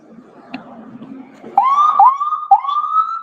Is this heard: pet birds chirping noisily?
no